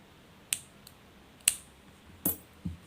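Scissors snipping extra yarn off a crochet puff flower: four sharp, close clicks spaced about a second apart in a quiet room.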